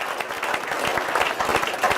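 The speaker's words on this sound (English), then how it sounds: "I'd like to have a round of applause for all the parents that brought their kids down here today" A crowd gives a round of applause for parents at a child health event, sustained clapping with distinct individual claps audible in the mix.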